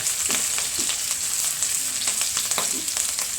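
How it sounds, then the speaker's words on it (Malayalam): Steady crackling sizzle of curry leaves frying in hot oil for upma, loud and close, with scattered pops and a faint stirring scrape. "കറിവേപ്പിലിട്ട് കറിവേപ്പില കൊടുക്കാം"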